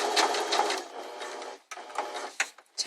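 Sewing machine stitching fold-over elastic in a steady, fast whirring burst, then a brief pause and a shorter second run of stitching, close and fairly loud with no talking.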